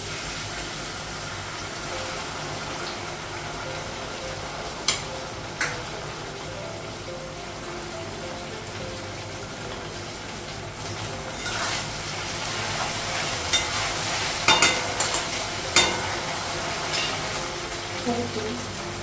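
Ginger-garlic paste sizzles and fries with onions in a pan, a steady broadband hiss running throughout with occasional louder crackles and stirring scrapes near the end.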